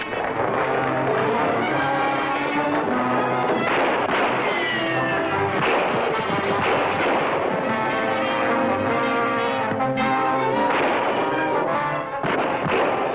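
Gunfire in a film battle scene, with repeated sharp shots and blasts scattered over dense, loud orchestral music throughout.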